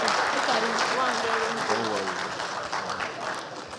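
Audience applause at a formal ceremony on infrastructure, trade and economic growth, honouring the Nigerian Immigration Service: steady dense clapping filling the hall, gradually thinning, with a voice speaking over it.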